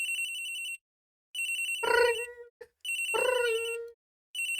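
A telephone in the Ace Attorney video game rings in two bursts of bright electronic trilling, with a short gap and a tonal chime between them and a third ring starting at the end; loud and close, with no talking.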